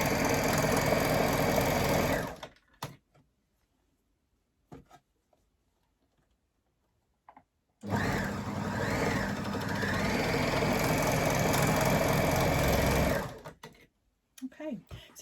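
A sewing machine runs in two steady, fast bursts, stitching straight across an elastic face mask extension band, with a quiet pause between runs and a few soft handling clicks.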